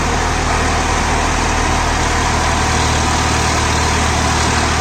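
Swaraj 963 FE 4WD tractor engine running steadily in creeper first gear, moving slowly with a rotary attached; a constant loud low rumble with a dense even drone throughout and no talking.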